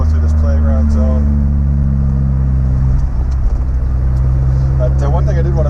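Honda S2000 engine droning steadily from inside the car while driving slowly and double-clutching through the gears, with a brief dip in pitch mid-way as the gear changes, loud and continuous, with someone talking over it.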